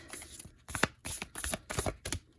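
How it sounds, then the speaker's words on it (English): Tarot cards are shuffled by hand in quick, quiet bursts of riffling and slapping, about five short clusters separated by brief pauses, close and soft with no talking. "So that was 1 shuffle. This is 2 shuffle."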